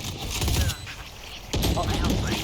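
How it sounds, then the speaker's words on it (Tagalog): Gunfire in the video game Valorant erupts as dense, rapid volleys of shots, loud and close, broken by a brief lull before a second sustained burst. "putukan!"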